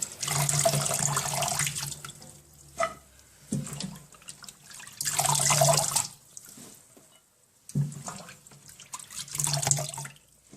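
Callaloo leaves being washed under a running kitchen tap, water gushing and splashing in steady bursts that stop and restart three times, close and fairly loud.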